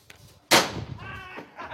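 A single sharp gunshot crack rings out loudly during a stunt show at the PortAventura theme park, followed by a fading echo and some faint voices and clatter in the background.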